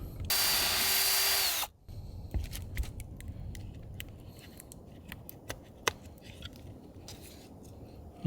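A drill bit boring through the case of a DJI Pocket 3, a loud dense whine for under two seconds that cuts off abruptly, followed by quieter clicks and handling noise.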